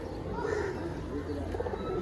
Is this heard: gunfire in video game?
no